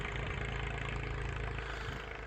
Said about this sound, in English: Is the plane taking off?